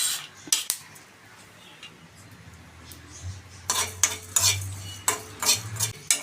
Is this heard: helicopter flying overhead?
no